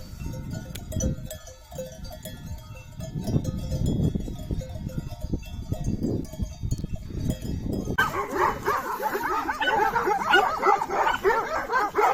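Two stray dogs barking near an abandoned house in the hills, repeated loud barks and yips in irregular bursts, joined later by a higher broadband rustle and clatter.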